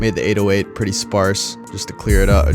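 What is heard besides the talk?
No everyday noise stands out behind the speech.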